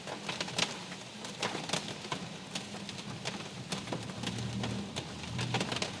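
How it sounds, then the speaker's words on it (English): Hail pelting a vehicle in a severe thunderstorm, a dense continuous patter of hard hits on the roof and body with sharper individual cracks scattered throughout, loud and close. "Oh, we're into hail."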